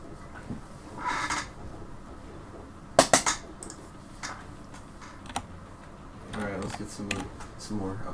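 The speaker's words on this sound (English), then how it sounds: "Stop typing." Scattered computer keyboard typing during a Call of Duty Black Ops II session, a few sharp clustered clicks and taps heard close but faint, with people talking in the background.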